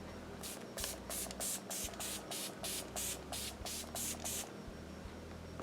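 XX Revolution makeup setting spray misted onto a face, about a dozen short hissing pumps in a steady rhythm, close and fairly loud, no talk.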